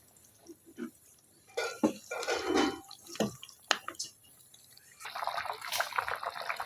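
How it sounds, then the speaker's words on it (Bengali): Water is poured into a pot of village-style desi chicken and potato curry, a soft splashing trickle in the middle of the stretch, with someone talking and kitchen clatter around it. "হালকা একটু পাতলা জল দিয়ে দিব, যাতে মাংসটা সিদ্ধ হয়ে যায়, আলুটাও সিদ্ধ হয়ে যায়।"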